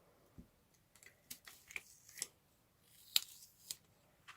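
Soft, scattered crinkles and light peeling ticks as stencils are lifted off a handmade card, quiet and close with irregular pauses between the small sounds.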